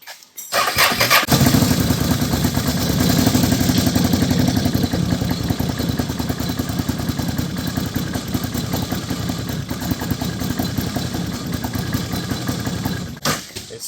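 A first-generation Can-Am Outlander ATV engine starts and idles roughly with an uneven, skipping clatter, a steady loud drone that runs close up for about twelve seconds before cutting off, no talk.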